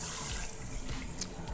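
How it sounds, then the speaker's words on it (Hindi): Water gushes steadily from a tap onto 5 kg of rice set to soak for chicken biryani, a continuous, close, fairly loud rush with no talking. "अब हम इसमें पानी डालेंगे"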